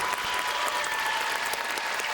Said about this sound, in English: And a standing ovation.